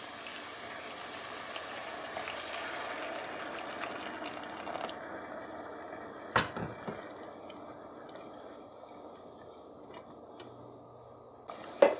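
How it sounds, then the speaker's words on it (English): Hot water poured into a pot of stewed butterfish, a steady soft liquid rush and faint sizzle running for several seconds, then quieter with a couple of brief knocks and clinks near the end. "So adding our hot water now."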